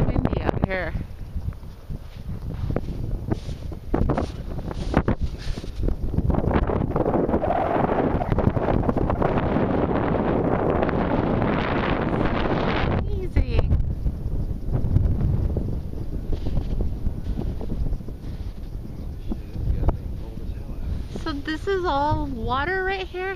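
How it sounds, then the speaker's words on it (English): Strong wind buffets the microphone out on frozen Lake Erie, a loud continuous roaring rumble through the whole stretch, with people talking faintly beneath and between gusts. "it's windy out here."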